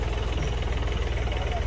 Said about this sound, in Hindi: तो फाइनली दोस्तों मैंने चला दिया है ट्रैक्टर